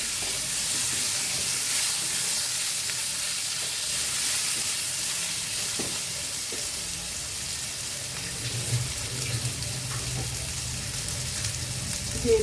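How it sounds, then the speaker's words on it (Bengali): Raw mango pieces fry in a pan for a fish curry, giving a steady, close hiss and sizzle throughout, with faint clinks from the cookware. "কাঁচা আমগুলো একটু ভাজি করে নেব।"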